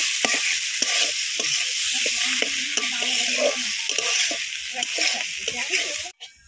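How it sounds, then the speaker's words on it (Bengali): Meat being slowly sautéed in a pan for a Bengali kosha dish, with a constant sizzle and frying hiss broken by regular scraping and stirring strokes, close and fairly loud, ending in a brief clatter. "মাংসগুলো ভালোভাবে কষিয়ে নেব"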